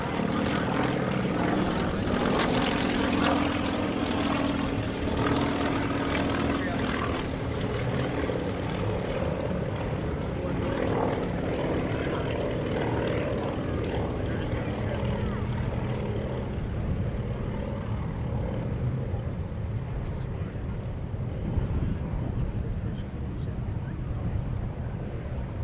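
Propeller-driven aircraft of an aerobatic team fly a simulated World War II dogfight at the 2017 Greenwood Lake Airshow, engines droning loudly and continuously overhead with a steady roar that swells and fades slightly.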